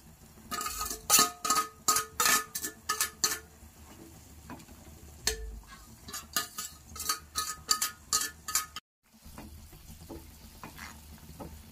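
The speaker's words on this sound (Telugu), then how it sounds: "ఇలా ఎసురు తెల్లుతున్నప్పుడు ఫ్రై చేసుకున్నటువంటి సేమియానంతా వేసుకోవాలి." Fried vermicelli tipped into a pot of boiling water for semiya payasam with sabudana, heard as a busy run of close clattering taps and scrapes. It thins out briefly, goes silent for a moment, then settles into a quieter bubbling hiss.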